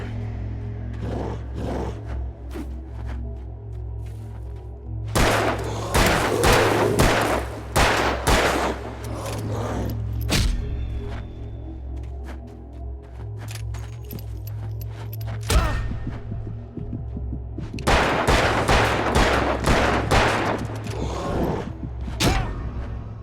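Gunfire rings out in the video game Alan Wake, with bursts of rapid shots in several clusters over a constant low droning hum, loud and close, without speech.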